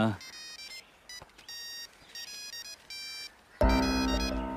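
A cell phone ringtone plays in a movie scene, repeating a bright electronic melody in short bursts with brief gaps between them. A loud, dense burst of sound swells in at the end, and no one speaks over the ringing.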